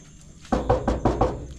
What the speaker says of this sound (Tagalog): Katok ng katok, may ginagawa ko dito eh.